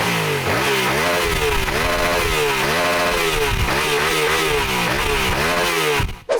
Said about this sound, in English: let's start it up so you can hear the engine